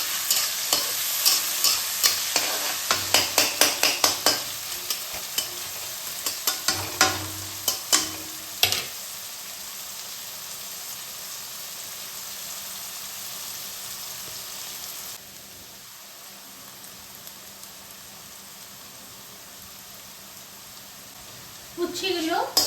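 Bitter gourd frying in a pan with mustard, a steady sizzle punctuated by a run of stirring clatters early on, then the frying settles into a quieter hiss; a brief voice is heard at the end.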